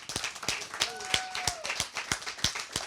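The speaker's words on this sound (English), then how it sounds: "Clap it up for him, Mr. Young Edi." An open mic crowd claps for a performer being called up, sharp individual handclaps in an uneven rhythm, fairly close and loud, with voices and a faint whoop mixed underneath.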